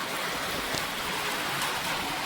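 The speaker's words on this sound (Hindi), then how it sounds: "और बहुत ही बारिश हो रही है, बहुत ज़्यादा।" Heavy rain pouring down in the Uttarakhand mountains, a steady dense hiss filling the whole stretch with no voices over it.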